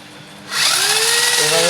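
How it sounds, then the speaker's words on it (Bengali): An electric drill or rotary tool bites into a motor armature, starting abruptly after a quiet moment and running as a loud, steady whine with a slight pitch shift near the end. "আর্মিচারটা ভালো করে ঘষে ভিতরে কাইটা দিবেন"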